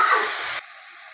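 Leafy greens seasoned with salt and turmeric sizzle loudly in a hot pan while being stirred, a dense, steady hiss that cuts off abruptly about halfway through, leaving near silence.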